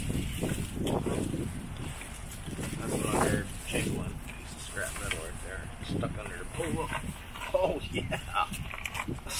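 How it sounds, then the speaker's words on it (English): Gusty wind buffeting the microphone outdoors, rumbling and roaring steadily, with people talking underneath. "It's a little windy today."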